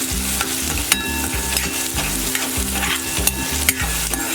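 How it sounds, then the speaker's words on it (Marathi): Onion and green chilli sautéing in hot oil in a kadhai give a steady, loud sizzle, with rhythmic scraping strokes of a spatula stirring throughout and no voices. "बघा मी कांदा घालून घेते पहिला फोडणीला आणि आता आपण मिरची घालून घेऊया आणि थोडं परतून घेऊया"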